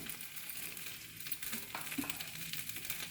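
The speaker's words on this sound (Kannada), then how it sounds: "ಒಣಮೆಣ್ಸಿನ್ಕಾಯಿನ ಒಂದೇ ಒಂದು ಸ್ಪೂನ್ ಎಣ್ಣೆ ಹಾಕಿ ಹುರ್ಕೊತಾ ಇದ್ದೀನಿ" Dry red chillies roast in a single spoonful of oil, producing a soft, steady sizzle and crackle with faint stirring clicks, quiet and close, with no talking.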